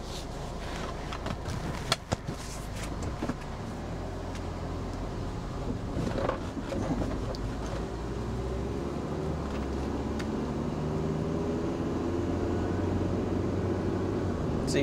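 A Honda Element with a stalling problem is driven along, giving a low, steady rumble of engine and road noise with some wind buffeting and a few knocks inside the cabin, no talking.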